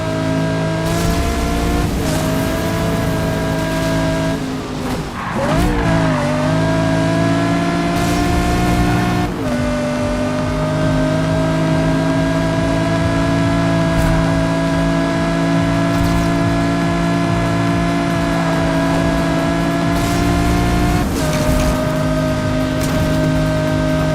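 Car engine in the NFS Rivals racing game roaring at high revs, sustained and loud, with gear shifts, brief dips and tire squeal across the run.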